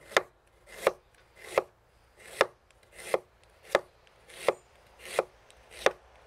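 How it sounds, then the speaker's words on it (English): A knife mincing fresh ginger on a cutting board, about ten sharp, evenly spaced chops at a slow steady rhythm, crisp and close with quiet gaps between strikes and no talking. "Meanwhile, we mince the ginger."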